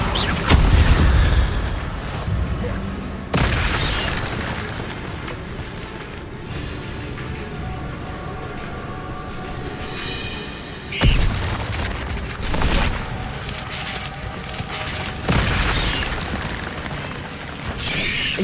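A fire spell cast in the Hogwarts Legacy video game: loud booming bursts that flare and then settle into a sustained roaring crackle. The blasts repeat a few times over steady game ambience.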